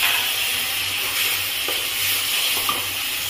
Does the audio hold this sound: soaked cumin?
yes